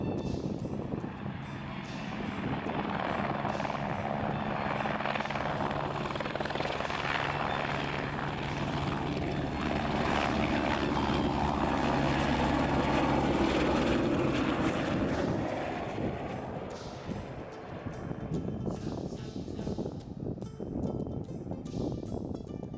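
A plane carrying trekkers from the Everest region of the Himalayas back to Kathmandu drones overhead, its engine and propeller noise swelling to a loud peak midway and then slowly fading over about twenty seconds, with no talk.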